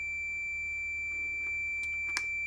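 A multimeter on continuity test against an automotive fuse gives a steady, unbroken electronic beep that holds at an even pitch and quiet level throughout, with a brief louder click near the end.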